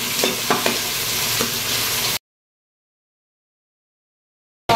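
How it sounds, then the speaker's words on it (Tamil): Chopped onions and green chillies fry in a pan with a steady close sizzle and a few stirring scrapes, then the sound cuts out abruptly. "இப்போ வந்து பொடியாக கட் பண்ண வெங்காயம் சேர்த்துக்கலாம். வெங்காயம், பச்சை மிளகா ரெண்டும் போட்டாச்சு."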